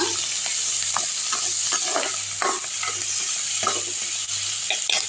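Ceylon spinach leaves are sautéed in a pan, a continuous close sizzle punctuated by repeated scraping stirs of a spoon against the pan, with a low steady hum underneath and no talking.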